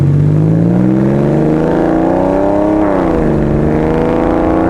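A 2001 Porsche 996 911 with a muffler bypass revs up loud and close, its engine note rising steadily, peaking near the three-second mark, then dropping and settling into a strong, throaty idle.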